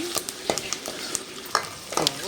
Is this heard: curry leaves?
yes